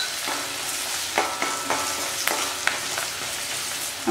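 Continuous sizzling of onions frying in a pan, with occasional scrapes and taps of a spoon stirring.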